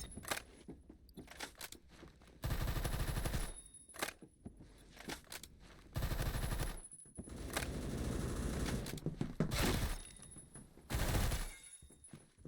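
Bursts of automatic gunfire in the Phantom Forces video game, with several sustained rapid volleys broken up by short single shots and quiet gaps, loud and close.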